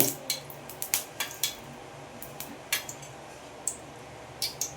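A kadai pan on a stove being readied for brinjal curry gives sharp metallic clinks and taps at irregular intervals, close and fairly quiet over low background hiss.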